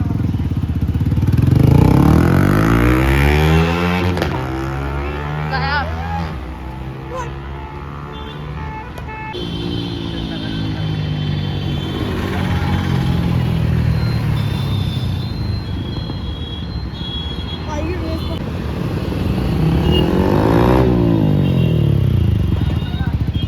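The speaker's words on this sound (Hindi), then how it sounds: "अभी एक टेस्ट ड्राइव लेकर आते हैं और इसका साउंड चेक करते हैं कैसा आ रहा है" A Yamaha R15 V4 motorcycle fitted with a Red Bull full-system exhaust is ridden on a test drive, its loud engine rising and falling through several rev sweeps as it passes close, with traffic around and voices talking over it.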